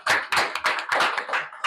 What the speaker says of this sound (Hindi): सौरभ जी के लिए ताली लगाया जाए।